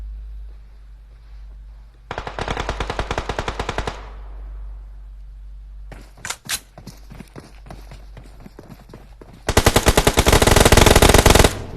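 Video game gunfire in three bursts: a rapid machine-gun rattle, then scattered single shots, then a loud sustained automatic burst. There are no voices.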